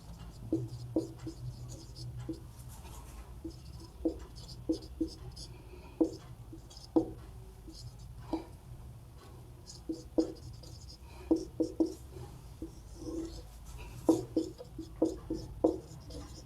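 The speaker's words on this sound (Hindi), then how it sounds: "तो सबसे पहले इसका सूत्र लिख देते हैं।" A mathematics formula written by hand, probably with a pen on paper, as a series of soft close scratches and taps in short bursts over a low steady background hum.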